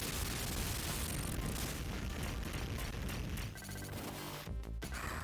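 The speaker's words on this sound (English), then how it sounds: "Then I use a bomb right here." A bomb goes off in Contra Hard Corps with a loud, continuous roar of blast noise that rumbles for several seconds before breaking up into crackling game sounds.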